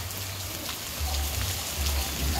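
Rain pouring off a house roof on a hot day, a steady close hiss of falling water and drips with a low rumbling undertone that swells partway through.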